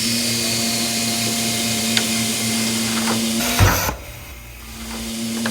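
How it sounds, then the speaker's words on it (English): A vacuum forming machine in a model train factory hums steadily as it pulls heated plastic sheet down over molds, with a brief louder whoosh of suction near the end before the drone drops off. "this whole board down here is vacuum. It pulls the plastic straight down over these molds."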